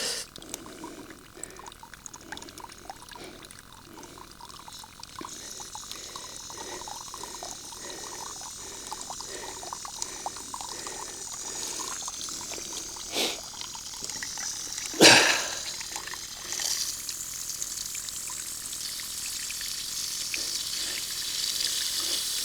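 Pressurised water gushes steadily from opened house plumbing with the mains still on, a continuous hissing splash that grows stronger, with a sharp clank partway through.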